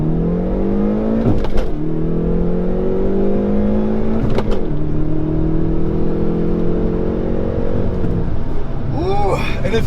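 A 2019 Hyundai Veloster N, 275 hp, launching hard from a standstill, engine revs climbing steeply through gears with brief dips at each shift, heard from inside the cabin with a person talking over it.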